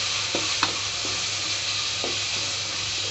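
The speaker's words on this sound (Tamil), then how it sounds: "புதினா வந்து கொஞ்சம் ஒரு கைப்பிடி அளவுக்கு நான் போட்டுக்கிறேன் அதையும் நல்லா வதக்கிக்கோங்க" A handful of mint leaves is stir-fried in a pan for chicken biryani, giving a continuous hiss with a few soft stirring scrapes, close and even.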